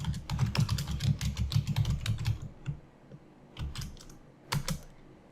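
Rapid typing on a computer keyboard, close and crisp, a fast burst of key clicks for about two seconds followed by a few scattered keystrokes and short pauses, no talking.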